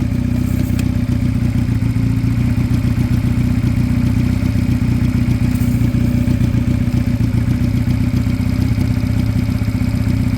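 A Piaggio Fly scooter engine with a suspected air leak runs at steady, loud, close revs, a continuous clattering drone with no clear rise or drop.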